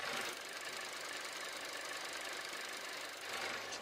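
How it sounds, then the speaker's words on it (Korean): A 2021 German sedan's 1.4 gasoline engine idles steadily, a dense, even mechanical hum with a faint ticking texture, close by and with no voices. "바로 엔진 소리 한번 들려드릴게요"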